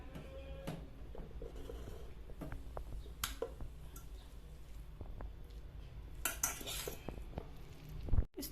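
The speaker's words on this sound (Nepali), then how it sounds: "अब मिक्स गरौँ मजाले" Wai Wai Thai red curry chicken noodles being mixed in a bowl with chili oil and sauce, light utensil clinks and scrapes scattered over a soft, steady background, with a louder clatter near the end.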